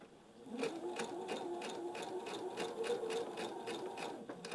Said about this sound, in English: And then I'll stitch this up here.